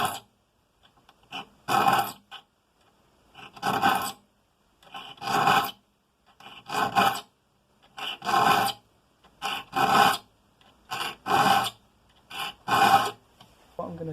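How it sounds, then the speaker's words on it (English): A file rasps across the teeth of a 14 TPI hand saw during re-toothing, in a steady series of separate strokes about every second and a half, each a sharp, close scrape with short pauses between. "the 14 TPI obviously take a little bit more filing"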